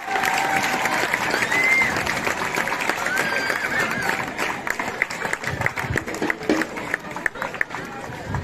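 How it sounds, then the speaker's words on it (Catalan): Crowd applause in a town square at a gathering of festival giants in Caldes de Malavella, sustained clapping with cheering and background chatter, gradually thinning, and a voice speaking over the crowd. "Aplaudiment per les colles, aplaudiment pels acompanyants de l'escola."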